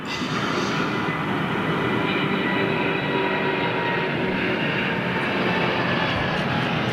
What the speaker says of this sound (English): This one powered by Rolls-Royce Trent 1000s.